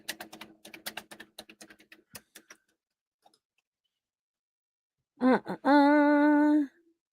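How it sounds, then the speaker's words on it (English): Quick clacking keystrokes on a computer keyboard for a couple of seconds, then silence, followed by a brief voiced sound and a sustained tone. "you're gonna hear me typing"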